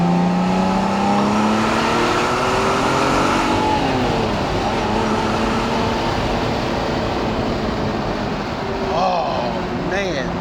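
The engine of a 1988 Ferrari Testarossa is heard as the car drives away. The loud, close engine note rises and shifts through the gears, then settles into a continuous roar that stays strong to the end.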